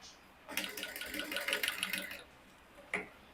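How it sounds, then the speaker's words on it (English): A sewing machine stitches a lacing bar onto a transparent illusion corset, running in a steady burst of rapid needle ticks for about two seconds before stopping, followed by one short clack. "and then I'll just sew it down."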